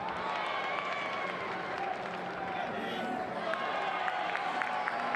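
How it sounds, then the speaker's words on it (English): A soccer stadium crowd applauds and murmurs after a good play, a broad steady wash of clapping and noise heard under a commentator's continuous talk. "Great work by Martinez, and the crowd shows their appreciation"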